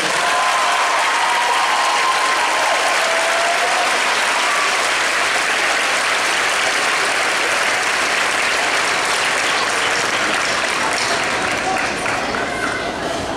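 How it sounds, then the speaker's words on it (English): A concert audience at a town band performance gives sustained, loud applause, a dense wash of clapping lasting over ten seconds with a voice briefly audible early on. "Let's give them another round of applause."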